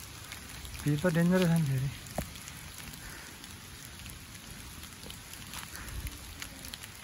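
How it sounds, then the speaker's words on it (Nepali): Rain falls steadily on the ground during a hike toward Jamacho Gumba, a dense hiss of drops with occasional louder splats, while someone speaks briefly near the start. "पानी पर्यो सरर हिलो भयो"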